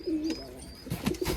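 Pigeons coo softly in a loft, low throaty calls repeating close by over a faint background hum.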